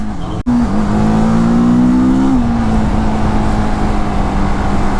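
A TVS Apache 310 motorcycle on the road rises in a smooth, loud engine whine after a sharp click, then holds a steady high drone close to the microphone.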